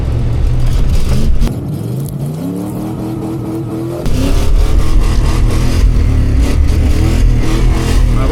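A 1996 Ford F-350 crew cab truck engine revving while driving in snow, loud and close, the pitch climbing and dropping through repeated throttle surges.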